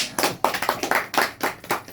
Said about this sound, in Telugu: బాగా చప్పట్లు కొట్టింది ఒకసారి